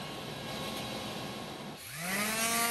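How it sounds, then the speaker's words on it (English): A Shopsmith power tool cuts spline material in a woodworking shop, giving a steady loud whine that dips and then rises in pitch as the motor spins back up. "I'll now cut 4 pieces to the length that I need."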